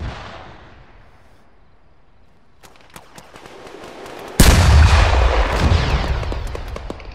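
A rocket fired at a target in a blowing-stuff-up session: scattered sharp cracks, then a sudden loud blast and a long, roaring, broadband rumble that slowly decays.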